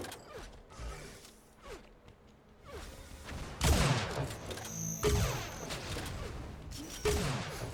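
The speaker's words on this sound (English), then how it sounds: "multiple shots here coming out" Weapon fire in Unreal Tournament, a loud burst of several shots with creaking mechanical game sounds between, mostly without talk.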